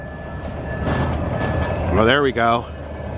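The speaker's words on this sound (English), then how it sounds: "train's making noise" A nearby train rolls along the rails with a broad rumbling roar, while someone speaks briefly over it, his voice rising above the steady rolling noise.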